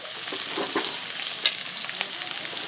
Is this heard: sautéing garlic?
yes